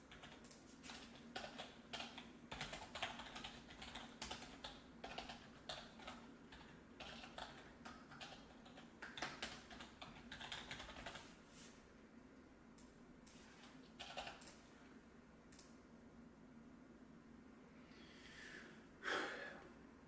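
Clicking keys on a computer keyboard while writing code, a steady run of soft close taps that thins out toward the end and ends in a brief louder click.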